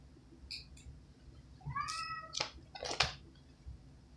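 A house cat meows several times, starting with a couple of short, soft chirps and then building into a louder, drawn-out, wavering meow with a few quick cries after it, all close by in a quiet room.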